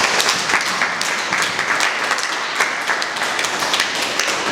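An audience at a poetry book presentation evening applauds with dense, loud, steady clapping throughout, with no talking.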